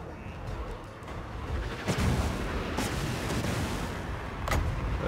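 Warp lightning cannon fire in a Total War Warhammer battle, a rumbling battlefield din with several sharp cracking blasts and booms scattered across it, loud and without talk.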